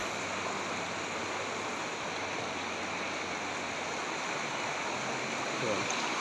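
Strong river current rushing steadily along a riverside at Bangkuro in Liliw, Laguna, a continuous broadband wash heard close and fairly loud, with no talk over it.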